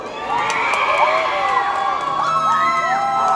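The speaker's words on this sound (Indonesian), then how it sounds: "Mana sudah sorakan untuk Mempakut?" An audience cheering for a Mempakut contestant at a Runduk Tadau Dazanak pageant in a Kota Kinabalu hall, with loud shrill whoops and screams over a crowd roar, continuous and close.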